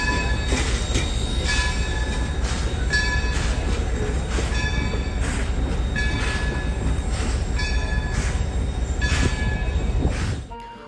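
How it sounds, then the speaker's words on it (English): A locomotive hauls two Central Railroad of New Jersey coaches, a standard car and a baggage car, at Steamtown National Historic Site. A steady rolling rumble carries regular rhythmic wheel clatter and faint squeals, then cuts off abruptly at the end. "The locomotive was pulling 2 Central Railroad of New Jersey coaches."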